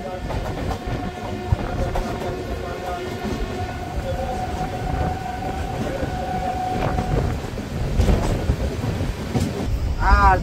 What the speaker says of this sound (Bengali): এই যে 4:11 ট্রেন কিন্তু রামনগর স্টেশন ছেড়ে বেরিয়ে যাচ্ছে।